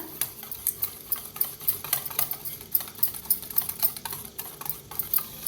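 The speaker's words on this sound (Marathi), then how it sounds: "आता ह्याला बी मिक्स करून घेऊया" Spices being stirred into a potato and yogurt mixture in a pan, a steady run of close scraping and clinking strokes with faint sizzling underneath, no voices.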